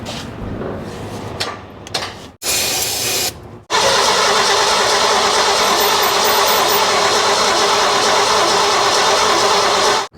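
Engine of a 1970 Ford, parked for 22 years, cranking in short bursts then catching and running steadily and loudly for several seconds, close up with no talk.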